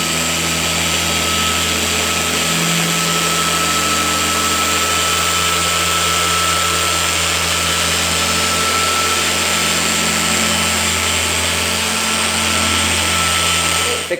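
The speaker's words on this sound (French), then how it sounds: "Là, je vais monter ma vitesse à 5." A car polishing buffer set to speed 5 drones steadily and loudly without a break, a constant motor whine with a low hum beneath it.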